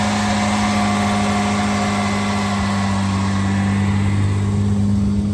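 A 1971 Jaguar XKE E-type Series II roadster engine runs at a steady idle close by, a loud, even hum with no pauses and no talking.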